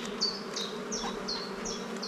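Honeybee colony on five hive frames, a close, dense buzzing hum with repeated brief higher whining bee passes about every third of a second, no voices.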